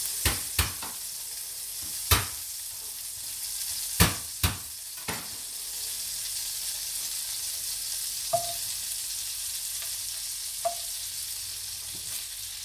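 Garlic and beef stir-frying in a buttered pan, a steady soft sizzle punctuated by sharp clacks of a utensil against the pan, several in quick succession early on, then sparser taps and scrapes over the continuous frying hiss.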